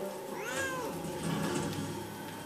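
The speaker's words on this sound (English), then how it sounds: "This cat's name is Isis." An angry cat gives a long, drawn-out meowing yowl close by, a single continuous caterwaul that rises and falls over a soft, steady background.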